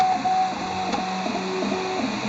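A 3D printer at work whose nozzle drags over its own print gives a steady mechanical whine with repeating stepped motor tones and a faint scraping, close and alone.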